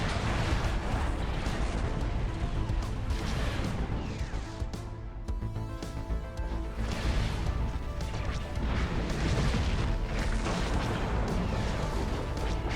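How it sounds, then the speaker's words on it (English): Starships blowing apart in a Star Wars space battle game, a continuous dense roar of crashing explosions and heavy impacts, loud and unbroken with repeated bursts layered over one another. "Bulk cruisers are destroyed, dreadnoughts as well, as they go down in a flurry of destruction"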